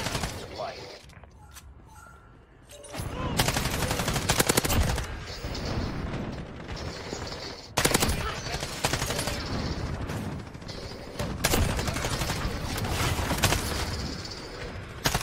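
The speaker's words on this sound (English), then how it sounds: "I'm just shooting at anything and everything that comes my way" Modern Warfare multiplayer gunfire on the Shipment map: dense, sustained automatic bursts and rapid single shots packed close together, loud and almost continuous with brief lulls, over a busy game soundscape.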